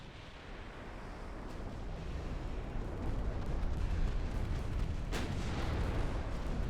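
Torpedo striking the rear of a battleship in the naval combat game Ultimate Admiral: Dreadnoughts, a heavy rumbling explosion that swells and holds loud, with a sharp crack near the end, no talking.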